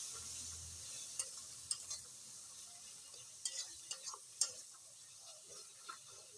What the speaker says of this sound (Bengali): এইভাবে আমি হালকা করে একটু কষাবো।